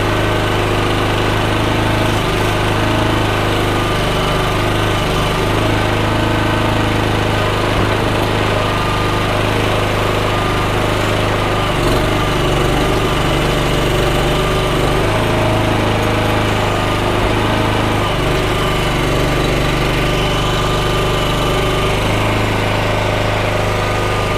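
A log splitter's small engine runs loud and continuous close by, a steady droning hum with a buzzing vibration and no pauses.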